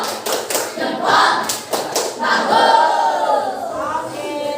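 Classroom students clap in short, loud, close bursts while chanting together in a thumbs clapping game, their voices rising over the rhythmic claps.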